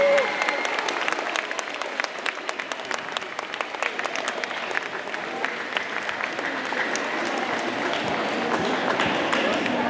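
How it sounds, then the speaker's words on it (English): School audience applauding itself after a penny-drive fundraiser, a steady wash of many hands clapping at moderate distance for about ten seconds, with scattered sharper claps and faint voices mixed in. "round of applause for yourself"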